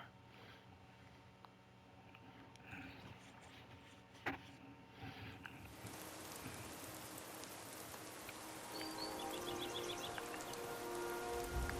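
Rain falling in Skyrim near Riverwood, a faint soft patter at first that builds into a denser, steadier shower after a few seconds.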